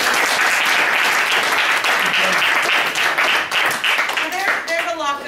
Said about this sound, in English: So I want to give you all a round of applause for coming out tonight